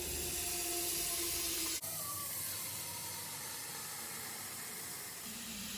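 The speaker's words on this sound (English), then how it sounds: "So we are gonna fill the pan half full." Tap water runs steadily into a pan being filled halfway for boiling eggs in a home kitchen, a continuous close hiss that shifts in tone partway through as the flow changes, with no talking.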